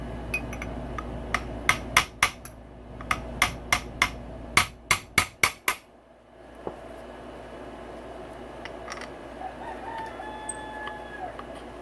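Sharp metallic taps driving a part onto the crankshaft of a KTM 85SX motocross engine, about a dozen close, bright hits in uneven bursts that speed up and then stop, followed by quiet workshop ambience with a faint rooster in the background.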